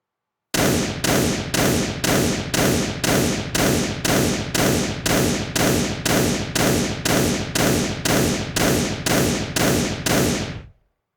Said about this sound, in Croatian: pucanj